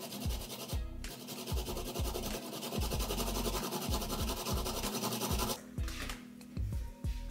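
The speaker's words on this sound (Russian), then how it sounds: "Одну морковь отварную натираем на крупной терке." A boiled carrot is rubbed over a coarse kitchen grater, giving repeated rasping scrapes in a steady back-and-forth rhythm, close and fairly quiet, with brief pauses.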